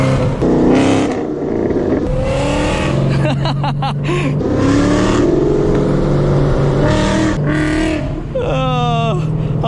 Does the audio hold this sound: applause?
no